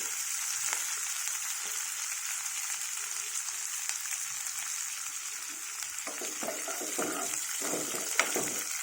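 Fenugreek leaves frying in a pan for a raw banana and methi curry, a steady soft hiss of sizzling oil throughout with a few light stirring scrapes near the end, no talk.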